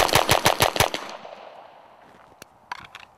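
Six rapid, loud gunshots fired at a single target in a speed-shooting drill ring out in quick succession within about a second, followed by a fading echo and a few faint clicks.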